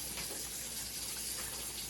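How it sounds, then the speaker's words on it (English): Water pours steadily into a pot of turkey chili with tomato sauce, a continuous close gushing splash running without a break. "But because I didn't have that, I'm going to add water to this."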